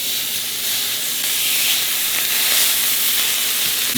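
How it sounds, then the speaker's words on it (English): Steaks sizzle steadily in a hot pan, a loud, continuous hiss and crackle with rising steam that holds for the whole stretch, with no talking over it. "Throw the steaks on. Let's cook these things up."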